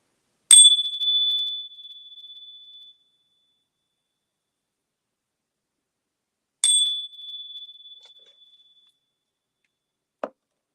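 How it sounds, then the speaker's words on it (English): A handheld bell is struck twice in a quiet room to clear energy, each a bright, clean ding ringing out and slowly decaying, several seconds apart, followed by a faint soft tap. "I'm going to clear the energy with my bell."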